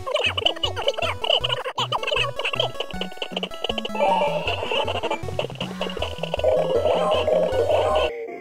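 Hip Hop Hero Komajiro toy in factory test mode running quickly through its built-in sounds, a rapid string of short electronic beats, jingles and voice clips with a steady thumping bass pattern, loud and continuous.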